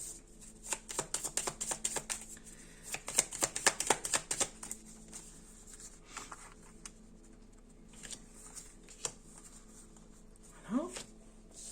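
Tarot cards being shuffled for a Virgo February reading, a run of quick papery riffles and flutters in bursts with pauses, close and moderately loud, with faint background hum.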